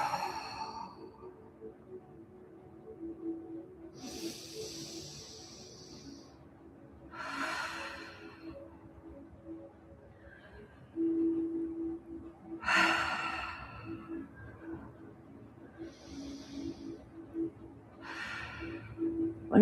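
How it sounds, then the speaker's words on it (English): Slow breaths in and out during a yoga lesson, taken while lying relaxed with feet raised, about five soft airy exhales spaced several seconds apart over a low steady hum. "we're going to breathe in and out 5 times"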